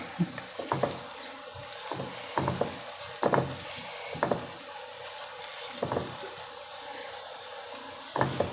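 Shredded cabbage for cabbage palya sizzles in a pan while being stirred, with repeated scraping strokes at an irregular rhythm over a steady frying hiss, close and moderately loud.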